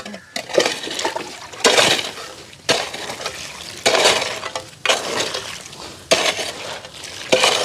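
Water is poured into the centre of a mix at a construction site, heard as roughly six loud, separate splashing pours about a second each with short pauses between them.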